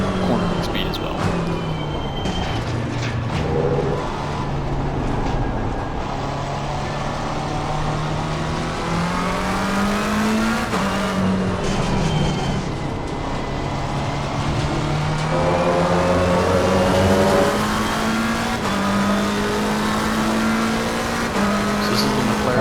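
McLaren 720S GT3 race car from Assetto Corsa Competizione, its engine note climbing and dropping through gear changes at steady loud volume, with someone talking over the whine throughout.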